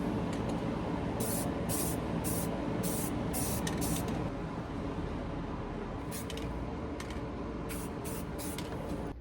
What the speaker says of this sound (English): we got the first coat of paint on it